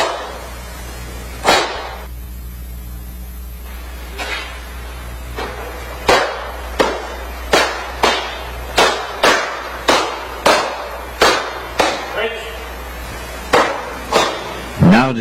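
Sharp punches strike martial arts focus gloves during Jeet Kune Do training, about a dozen crisp, loud slaps landing in a fairly even rhythm after a couple of isolated hits.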